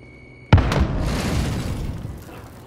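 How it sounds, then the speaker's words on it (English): A grenade explosion in the Call of Duty Modern Warfare video game goes off with a sudden loud bang, then a rolling rumble that slowly fades over the next couple of seconds. "Grenade out!"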